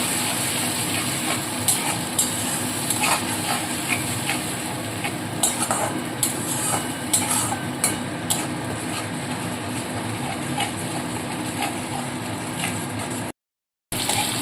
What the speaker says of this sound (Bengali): এবার টমেটো পিউরিটা এর মধ্যে দিয়ে দিলাম টমেটোটাকে ভালো করে কষাতে হবে